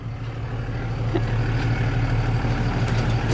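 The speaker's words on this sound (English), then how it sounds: "And a big UPS truck." A big UPS delivery truck's diesel engine idles close by with a steady low rumble that builds slightly and holds throughout.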